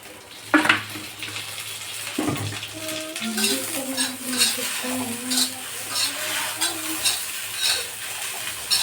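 Okra frying in a little oil in a pan, a soft sizzle under repeated scraping and clinking of a spoon stirring against the metal, with a voice talking over it throughout.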